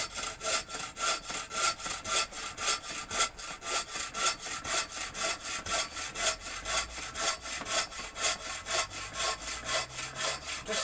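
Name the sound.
saw cutting through firewood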